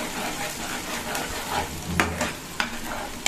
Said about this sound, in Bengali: মশলাটা ভালো মতন কষাতে হবে।